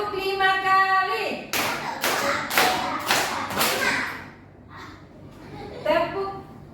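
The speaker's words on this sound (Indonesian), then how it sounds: "Tepuk 5 kali." Children in a classroom clap in unison five times, a crisp, evenly spaced run of loud claps, with a teacher speaking before and after.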